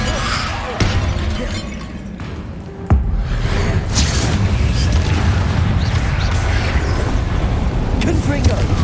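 A Confringo spell explosion in Hogwarts Legacy on PS5 bursts with a sharp crack and a booming, shattering roar that lingers under a dense game soundscape, with a voice shouting over it.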